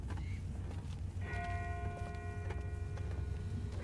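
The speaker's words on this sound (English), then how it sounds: "That's not the same bell as before. This one's further off." A church-like bell tolls once, faint and far off, its ringing tone lingering over steady low rumbling ambience in The Walking Dead video game.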